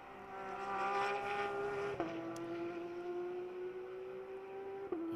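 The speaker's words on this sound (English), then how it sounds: "the sound of a flat 6 Porsche" A Porsche flat-six GT race car engine drones at high revs during qualifying at Road America, its steady pitch dropping briefly at each gear shift, heard from a distance.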